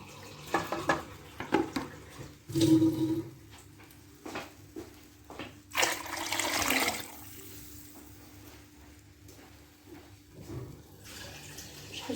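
Water poured into a tagine for a vegetable soup, with splashing and pouring gushes in uneven bursts, a longer pour partway through, close by with kitchen clatter and no talking over it.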